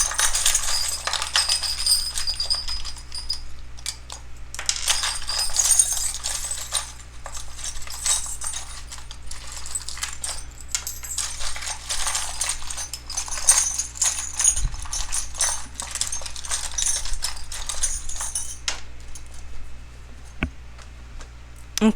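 Small charms shuffled around inside a charm box, giving a continuous stream of light clicks and clinks with soft rustling, close and moderately quiet, with an occasional louder knock.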